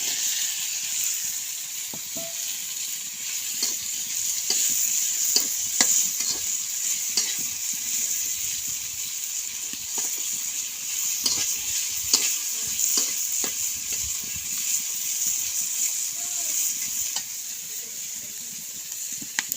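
Dried sea fish fries with spices in a pan over low heat, a steady bright sizzle throughout, broken by repeated scraping stirs of a spatula; close and continuous, with no one talking.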